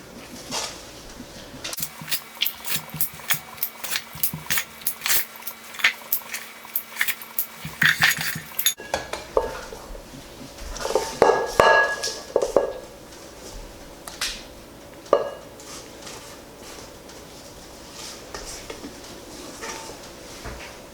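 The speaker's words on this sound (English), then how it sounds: "I'm going to use an ice cream scoop to divide this batter." Metal ice cream scoop portioning batter for an Italian cream cake into baking pans, heard as scattered sharp clicks and clinks of metal against bowl and pan rims, fairly close, with brief quieter gaps between scoops.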